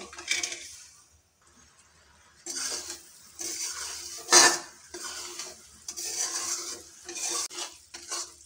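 Sugar syrup for Joynagar moa boiling and stirred in a pan, with spoon scrapes and clinks against the metal in bursts, separated by short quiet gaps, and a faint bubbling sizzle.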